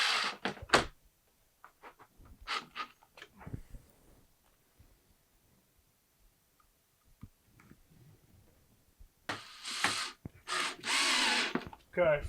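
A power screwdriver drives screws into a roof vent cover on an RV, short whirring bursts at the start and again near the end, with quiet gaps between and a person talking in the middle.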